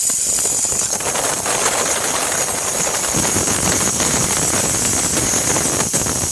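A steady, loud hiss of a Pasquini Livia 90 espresso machine steam wand runs without a break, with a faint rattling engine-like rumble underneath.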